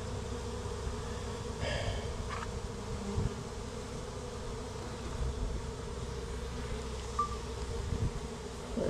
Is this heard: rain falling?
no